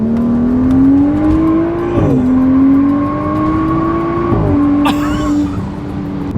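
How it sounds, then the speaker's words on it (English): BMW F30 335i with N55 turbo engine, heavily modified with methanol injection, drones and rises steadily under load with a deep exhaust tone, the note dipping at shifts near 2 and 4.4 seconds and a brief high whoosh near 5 seconds, close and continuous. "Exhaust sounds good. It's got a good tone to it."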